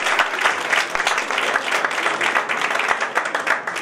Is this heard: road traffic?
no